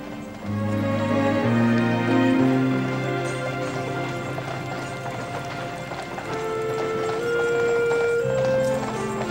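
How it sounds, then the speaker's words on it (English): A team of horses pulling a wagon clip-clops steadily along, the hoofbeats running under a loud orchestral music score. "Driving a team like that, you can feel the power of the horses through the reins."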